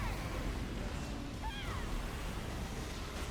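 A water dragon skill attack from the Solo Leveling: Arise video game makes a steady, dense rushing of surging water, like crashing surf, filling the whole stretch with a few brief whooshing swirls partway through.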